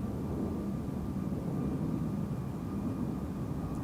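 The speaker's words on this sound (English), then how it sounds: "Norwegian Max 8737 is now spilling up, going to Copenhagen in Denmark" A Norwegian Boeing 737 MAX 8, registration LN-FGF, spools up for takeoff from Amsterdam Schiphol's Polderbaan runway 36L, bound for Copenhagen, a steady, even roar of jet engines heard from a distance.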